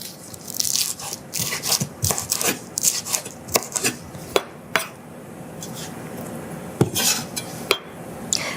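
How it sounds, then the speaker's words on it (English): Vegetables are being rough-chopped for a pink salmon casserole, giving a run of sharp, irregular knife knocks on a board mixed with clinks of pots and utensils, close and fairly loud with no talking. "I'm just rough chopping everything because everything is going to go into one pot"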